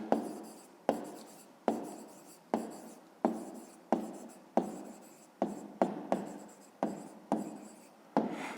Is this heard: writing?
yes